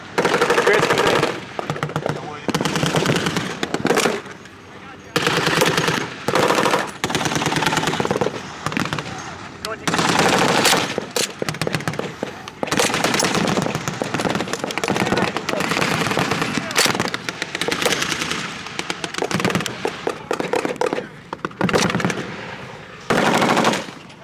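Sustained machine gun fire at a World War II reenactment in Zephyr Hills, Florida, loud and close, with long rattling bursts broken by brief pauses through most of the stretch and shouted voices mixed in.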